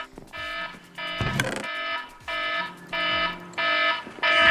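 A repeating electronic timer alarm in a video game beeps in regular pulses, loud and insistent, with a short clattering noise early on.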